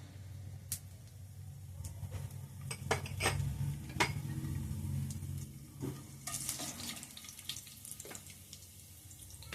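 Tempering seeds crackle in hot oil in a kadai, a soft sizzle punctuated by sharp pops and spatters, with a low rumbling underneath and occasional utensil clinks, close and moderately quiet.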